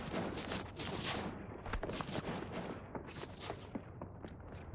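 Dense gunfire fills a video game firefight in Cyberpunk with RTX 4090 frame generation, loud, rapid bursts and overlapping shots with booming impacts crowding together for the whole stretch.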